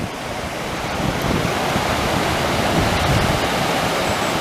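A river too deep to cross runs through Shenandoah National Park, a loud steady rush of flowing water with wind buffeting the microphone and no voices.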